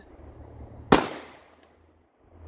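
A single sharp 9mm pistol shot crack with a short echoing tail, against a quiet outdoor range background.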